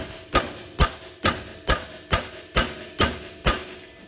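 Eight evenly spaced hammer blows strike a bolt during a Maxxair roof fan install on a Promaster van, each a sharp metallic hit about half a second apart, close and clear with no talking.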